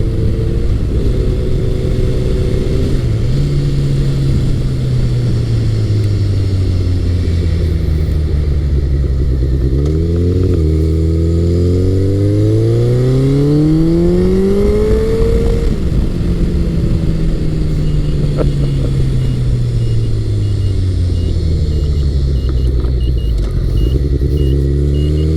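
A Honda CBR1100XX Blackbird motorcycle accelerates hard through the power band on a straightaway, its engine note rising and falling in long sweeping pitch climbs as it shifts through gears, loud and continuous throughout.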